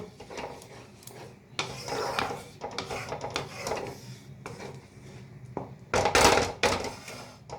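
Raw cashews and other ingredients for a vegetarian paneer dish stirred in a pan over low flame, irregular scraping and knocking of a utensil against the pan, with a louder clatter near the end.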